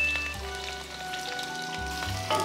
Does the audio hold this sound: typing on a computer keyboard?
no